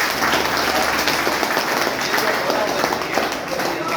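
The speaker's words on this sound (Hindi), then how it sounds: "एक बार जोरदार तालियां संपूर्ण" A crowd applauds loudly and continuously, dense clapping filling the whole stretch without letting up.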